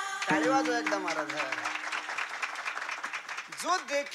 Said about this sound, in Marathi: टाळी वाजवा एकदा महाराज